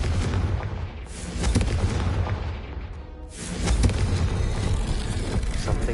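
Confringo blasting spell explosions in the Hogwarts Legacy video game, loud rumbling booms and blasts that swell and fade over several seconds against a dense, noisy game soundscape.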